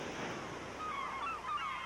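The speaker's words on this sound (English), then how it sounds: "Here, sea and land meet in a haunting complex of cliffs, polished rock, and crashing waves." Pacific surf crashing against cliffs, polished rock and offshore sea stacks, a steady, close, broadband wash of breaking water with a thin high whistle drifting through it.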